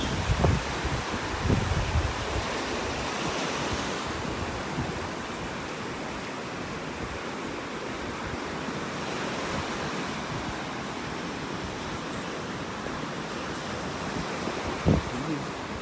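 Gulf of Mexico waves wash onto a shell-strewn beach in North Naples, Florida, a steady broad roar of surf with hard wind buffeting the microphone throughout and a few brief knocks near the start and end.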